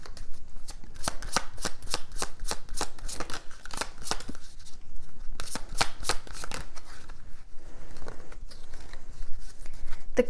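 Tarot cards shuffled continuously up close, a dense run of crisp riffling flutters and slaps with brief lulls, fairly loud and with no talking.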